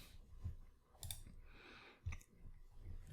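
Mouse clicks on a Tweet button in a FileMaker Cloud app linked through Claris Connect, a few sharp, faint clicks spaced apart against a quiet room background.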